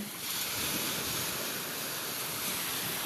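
Heavy ocean surf roars continuously, a dense wash of crashing waves with gusts of wind buffeting the microphone.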